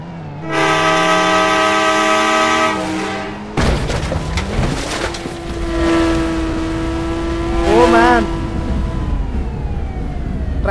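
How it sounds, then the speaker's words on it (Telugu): A train in the Indian Bikes Driving 3D mobile game sounds a long, loud horn, then pulls away with rumbling wheels and clatter, with another horn blast near the end. "ట్రైన్ బయలుదేరుతుంది"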